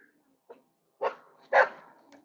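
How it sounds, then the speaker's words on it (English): A dog close by gives a few sharp barks, one small yip and then two louder, fuller woofs about half a second apart, in an otherwise quiet spot. "Dog close to me"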